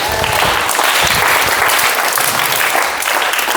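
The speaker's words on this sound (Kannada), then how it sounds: "ಎಲ್ಲರೂ ಚಪ್ಪಾಳೆ ತಟ್ರಿ." Children at a summer camp burst into loud, close, continuous clapping after a group game, a dense and energetic round of applause that holds steady throughout.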